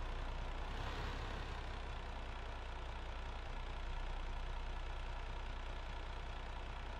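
A truck engine idles steadily in Farming Simulator 2015 on Xbox One, a constant low mechanical drone with no breaks and no talking.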